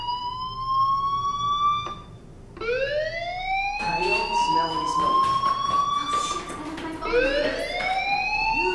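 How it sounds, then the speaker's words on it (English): A fire alarm wails inside the video game Life is Strange, its rising electronic tones sweeping upward again and again, loud and insistent, with a voice speaking faintly underneath. "Hey, do you hear that fire alarm?"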